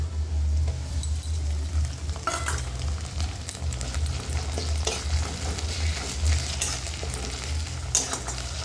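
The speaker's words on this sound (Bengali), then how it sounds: "ভালো করে ভেজে নেব পেঁয়াজ" Onions with ginger-garlic paste frying in a pan, a steady close sizzle with intermittent clinks and scrapes of stirring throughout.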